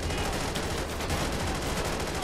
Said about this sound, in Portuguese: Nossa, aí, ó, troca de tiro pesada mesmo,